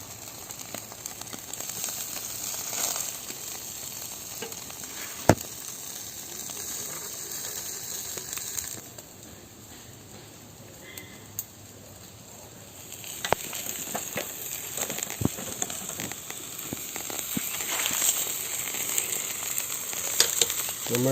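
Marinated duck meat sizzles on a hot barbecue grill with a continuous crackling sizzle, broken by sharp clicks and pops. The sizzle drops quieter through the middle stretch, then builds up again.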